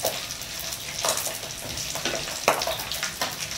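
Pork cracklings fry in a pan over low heat, giving a steady crackling sizzle with a few sharper pops and spatters throughout.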